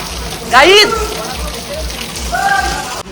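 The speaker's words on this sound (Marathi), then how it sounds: "ते बघा कसला पाऊस पडतो बघा" Rain pours steadily outside a farmhouse, a constant broadband wash of rainfall running through the whole moment while a voice speaks briefly over it.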